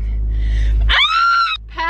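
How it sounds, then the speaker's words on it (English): A young woman lets out a single excited scream at the start of a pageant weekend, loud, high and sustained for about half a second, over a low background rumble and followed by a brief trailing vocal sound. "I need to scream in excitement real quick"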